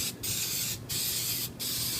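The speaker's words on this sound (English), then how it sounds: "I need to actually spray it pretty well with cooking spray so that nothing sticks." Three bursts of cooking spray hissing steadily onto a metal pan, each lasting over half a second, separated by short pauses, close and clear.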